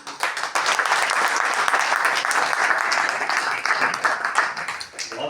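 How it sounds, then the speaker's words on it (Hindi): A hall audience at an annual book-launch and awards function claps loudly and continuously, a thick, steady wash of applause that swells briefly near the end without any talking. "एक बार पुनः जोरदार तालियां आदरणीय डॉक्टर कीर्ति का।"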